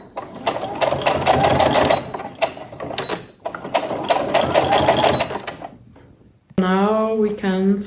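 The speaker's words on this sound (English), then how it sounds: "you're just gonna stitch all the way around with 1 centimeter seam allowance" A sewing machine stitches a seam around a fabric toiletry bag, two runs of fast rhythmic mechanical whirring separated by a pause, then someone speaks at the end.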